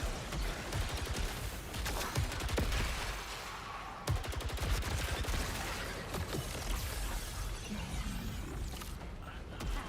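An Onslaught rifle fires in a video game: loud, rapid bursts of gunfire with sharp cracks and a heavy thud partway through, set against a busy, noisy battle backdrop with no talking.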